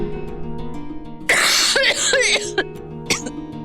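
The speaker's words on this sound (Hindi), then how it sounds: "खांसना बंद करो प्लीज। टेबल के ड्रॉ में सिरप पड़ा है, जाके पी लो।" Coughing, a loud burst of several harsh, close coughs in quick succession followed by a couple of smaller ones, over a quiet background hum.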